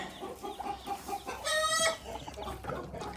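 A small fluffy rooster and backyard hens in a garden coop cluck in short, irregular bursts close by, with one louder, drawn-out tonal call standing out in the middle.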